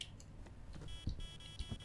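An EMF reader at level 5 in the Demonologist video game gives off faint, steady electronic beeping under quiet game ambience, with a few soft thuds.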